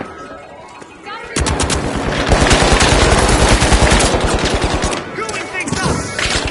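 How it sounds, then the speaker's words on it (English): Deployed automated turret in the shooter game The Finals firing rapid bursts, a loud close rattle of fast regular shots lasting several seconds, then pausing and resuming briefly at the end. "Deploying turret. turret deployed."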